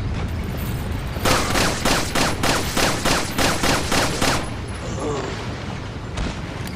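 Rapid gunfire in the video game Resident Evil 4, a loud burst of about ten evenly spaced shots in quick succession, then a pause and a single later shot, with a voice over part of it.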